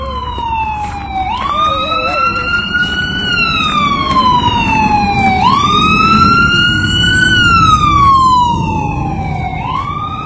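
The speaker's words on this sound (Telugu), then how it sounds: "అంబులెన్స్ వస్తాను చూడు, అంబులెన్స్." A loud wailing ambulance siren sweeps up and down repeatedly, close by, with the vehicle's engine rumbling underneath as it passes, in Calgary, Canada.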